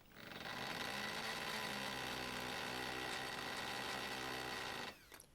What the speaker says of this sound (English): Put the drill into hammer mode.